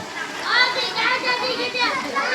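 Children shout and chatter at a kids' swimming pool at Cabasaan Cold Spring in San Enrique, Iloilo, their lively voices rising and falling over a constant wash of water.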